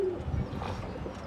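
Soft, low cooing of pigeons and their chicks, a brief murmuring coo close by and fairly quiet.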